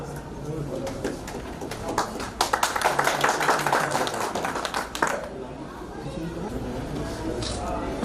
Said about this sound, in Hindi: इस्तकबाल कीजिए भरपूर तालियों से जनाब मंसूर कासमी।